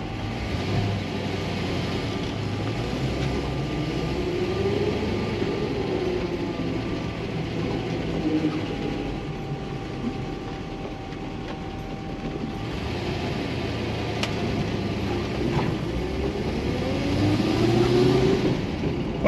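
An older car without power steering, fitted with unassisted front disc brakes, drives along with a continuous low engine and road rumble. Faint tonal whines rise and fall at times, and no one speaks.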